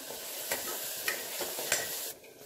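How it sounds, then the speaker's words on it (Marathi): A green ground paste sizzles and fries in a hot pan while being stirred, soft steady crackle broken by a few sharp spoon scrapes at regular intervals, fairly quiet and close. "आता यामध्ये आता हे जे हिरवं वाटण बनवून घेतलेलं आहे ते टाकायचं. व्यवस्थित असं परतून घ्यायचं."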